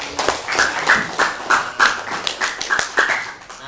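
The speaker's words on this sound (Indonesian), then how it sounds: "tepuk tangan dulu untuk kita." Sharp, rhythmic hand claps from students in a school classroom guidance session, fairly loud and close, repeating at a quick, slightly uneven beat for several seconds.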